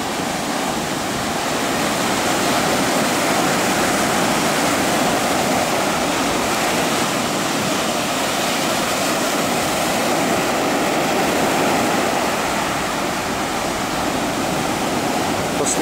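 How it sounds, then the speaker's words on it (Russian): Steady broadband roar of sea waves washing in continuously at Lazurnaya Bay (Shamora), Primorsky Krai, close and loud, with no distinct breaks or other sounds. "Слушаем шум моря"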